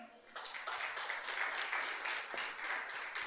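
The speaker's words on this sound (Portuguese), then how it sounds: "Aplauda ao Senhor." A church congregation applauding the Lord during a sermon, a steady burst of many hands clapping with a faint rhythmic pulse, fairly close and continuous for a few seconds.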